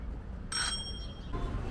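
Bicycle bell on a street, a single bright metallic ring that sounds suddenly and rings out briefly, close by over low background noise, with no voices.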